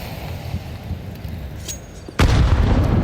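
Grenade blast in a Counter-Strike match at a pro tournament: steady background game noise, then one loud, sudden explosion that roars on with a sustained rumble.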